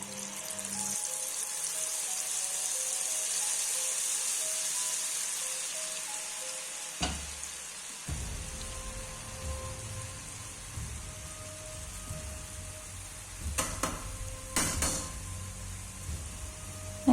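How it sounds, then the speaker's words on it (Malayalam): Laddu batter swirled into hot oil in a pan fries with a steady bright sizzle, with a hiss at the start and louder bubbling bursts as more batter is dropped in, heard up close with no talk. "ചട്ടി വെച്ച് എണ്ണ ഒഴിച്ച് നല്ലോണം ചൂടായി വരുമ്പോൾ ഈ മാവ് എടുത്ത് നല്ലോണം ചുറ്റിച്ച് കൊടുക്കുക"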